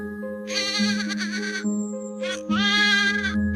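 A goat in an animated children's moral story lets out two drawn-out, wavering bleats, each lasting about a second, close and clear over a steady musical backing.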